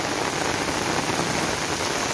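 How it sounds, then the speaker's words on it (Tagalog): Heavy rain pouring down in a dense, steady roar, loud and close with no pauses. "Ang lakas po ng ulan."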